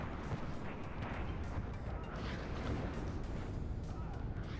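Dense, continuous rumble of rocket artillery and battlefield fire from Uragan launchers in the WARNO wargame, a steady wash of booms and crackle with no distinct single shots, kept at a fairly low distance with no one talking over it.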